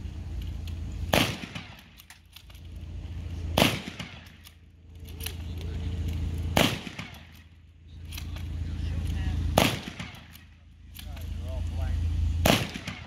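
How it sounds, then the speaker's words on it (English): Five sharp, loud blank shots from an M1903 Springfield rifle ring out a couple of seconds apart, each followed by the clack of the bolt being worked, with a rumbling background between them. "That's five shots, each individually charged."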